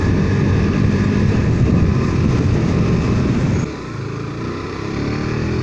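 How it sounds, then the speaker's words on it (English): A 2017 KTM RC 390 motorcycle with a throaty exhaust, a loud continuous engine drone heard close up that drops to a lower idle-like hum near the end, with no talk. "Now the exhaust note is kind of a throatier."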